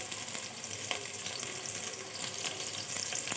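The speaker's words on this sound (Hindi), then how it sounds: "हाफ कप ऑयल गरम करने के बाद हमने इसके अंदर डाल दी है एक प्याज और अब हमने प्याज को देना है कलर" Onion frying in half a cup of hot oil, browning toward golden for palak chicken, a dense continuous crackle with scattered pops throughout, fairly quiet and close, without voices.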